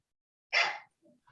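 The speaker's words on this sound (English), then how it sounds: "I think it's the dog" A dog gives a single sharp bark nearby, followed by a faint whimper and the start of another bark in an otherwise quiet room.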